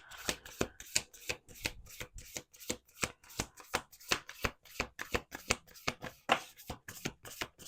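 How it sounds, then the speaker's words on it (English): Playing cards being riffle-shuffled over and over, a quick rhythmic series of crisp fluttering bursts, close and clear with no talking. "Last shuffle."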